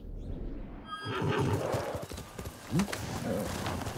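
A horse in the video game Ghost of Tsushima gives a loud whinny at the start, followed by clip-clop hoofbeats and a snort, with someone talking over it.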